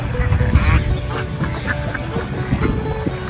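A flock of free-ranging ducks at a rural Thai garden home quacks busily and continuously nearby, their overlapping calls forming a loud, chattering chorus.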